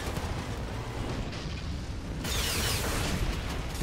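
Rockets fire in the vehicle combat game Hardware Rivals, a dense, roaring whoosh and rumble that swells louder partway through, set over continuous engine and gameplay noise.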